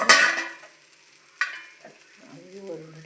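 A spoon scrapes through poha and roasted peanuts in a pan, with two sharp stirring strokes over a soft sizzle.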